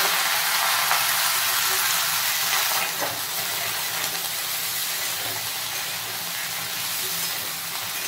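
Cut spiny gourd (kakrol) fries in hot oil in a pan with cumin seed tempering, giving a loud, steady, dense sizzle that runs throughout with no voices.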